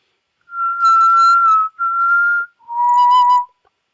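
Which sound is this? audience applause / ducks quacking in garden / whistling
whistling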